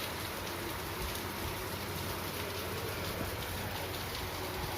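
Steady, dense rain falling outdoors, a constant hiss with fine pattering throughout and no voices.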